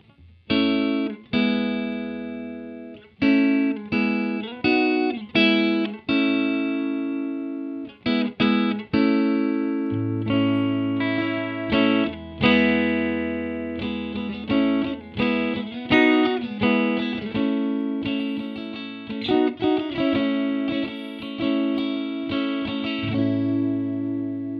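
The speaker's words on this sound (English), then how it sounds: "here is our guitar tone just plugged in, clean. No effects," A clean electric guitar plays chords and single notes with no distortion, ringing clearly and steadily throughout, close and moderately loud.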